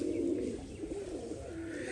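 A pigeon coos softly in a low, rolling murmur that holds steady, close by and quiet, with no voices.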